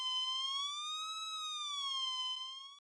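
A Soviet synthesizer tone from a Kontakt sample library, played as a pure, steady note that slides gently up in pitch and back down again. It is sustained for nearly three seconds and ends abruptly.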